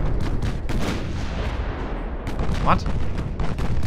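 Heavy naval gunfire from battleship guns in the Ultimate Admiral Dreadnoughts video game: dense, rumbling booms and blasts roll on continuously, with one sharper burst standing out, and a single brief spoken word sits over the din.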